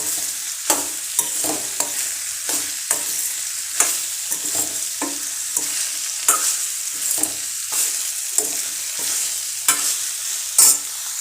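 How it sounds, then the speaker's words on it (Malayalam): Soybean chunks fry in a pan with loud, close sizzling and repeated scraping stirs of a spatula every second or so, a rhythmic stir-and-hiss pattern without any speech. "എന്നിട്ട് നമുക്കിതൊന്ന് ചെറുങ്ങനൊന്ന് ഫ്രൈ ആക്കി എടുക്കാം."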